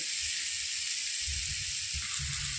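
Spice masala frying in a pan for a rohu fish curry with potato and flat beans, a constant bright hiss of sizzling oil with low bubbling and stirring thumps building midway, no talking.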